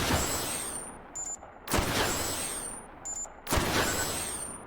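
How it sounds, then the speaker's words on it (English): A weapon's battery warning in the H3VR virtual reality shooter gives two short, high electronic double-beeps, each followed by a sharp, loud gunshot, with no voices. "So now our battery, when it went beady deep, that was it going to yellow."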